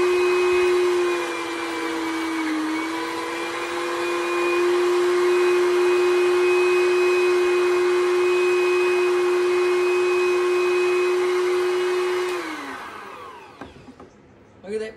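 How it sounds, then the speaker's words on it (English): A kitchen grinder runs at a steady, loud motor whine while chopping vegetables for chow chow relish, dipping briefly in pitch before winding down near the end and leaving a few clatters. "I'm going to go to grinding on these."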